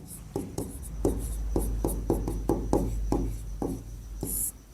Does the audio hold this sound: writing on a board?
yes